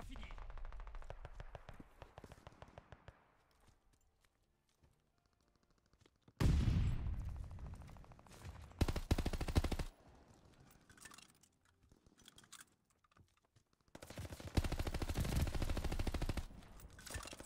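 Thompson submachine gun in a shooter video game, fired in several loud bursts of rapid automatic fire separated by quieter stretches, with a voice talking over parts of it.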